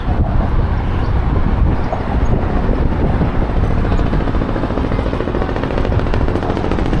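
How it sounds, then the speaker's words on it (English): Steady, loud mechanical rumble with a faint rhythmic chop as a helicopter passes overhead amid city traffic noise in Brooklyn, New York City; no clear talking. "Oh, helicopter."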